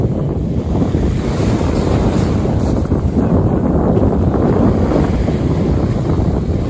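Strong wind buffets the microphone in a constant low roar at the beach, with surf washing in the background at the shore.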